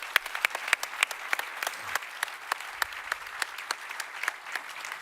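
A small audience at an investor meeting claps, sparse individual hand claps in a steady patter, moderately near, with no talk over it.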